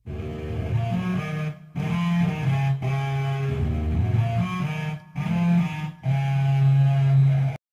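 A pitched Wilhelm scream vocal sample plays in short sustained phrases with choppy gaps, run through an amp with gritty distortion and a washy reverb tail, loud and processed.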